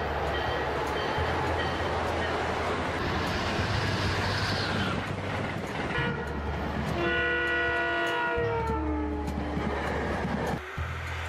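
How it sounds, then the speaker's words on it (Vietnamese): An electric train rolls past with a loud, continuous rumble and rail noise, then sounds a multi-tone horn for several seconds near the end. "Electric trains."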